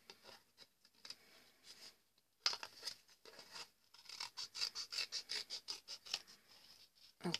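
Scissors snipping through paper while trimming a triangular paper gnome hat, a run of quick, close, light cuts that starts after a brief pause and repeats in a steady rhythm.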